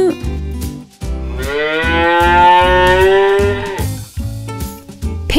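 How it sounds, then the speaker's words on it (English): A cow moos in long, drawn-out lowing calls, loud and close, over a bouncy repeating musical backing. "A cow says moo"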